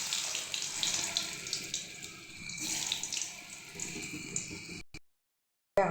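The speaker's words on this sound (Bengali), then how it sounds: "তেল গরম হয়ে গেছে, বড়া ভেজে নেব।" Bora fritters fry in hot oil, giving a soft, steady hiss of bubbling with light crackles before the sound cuts out abruptly near the end.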